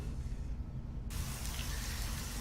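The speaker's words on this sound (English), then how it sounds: "we have a scene with the rain downfall, then we have a bunch of rain surface splashes" Steady rain downfall with surface splashes, generated in Sky Studio, forms a constant hissing wash that brightens abruptly about a second in and then holds evenly.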